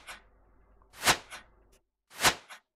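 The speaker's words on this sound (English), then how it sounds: "We want to add a whoosh sound for the arrow firing." Short airy whooshes from an arrow being fired in an Unreal Engine 5 game: a faint swish, then two loud, sharp passes about a second apart, each with a brief tail, isolated against silence.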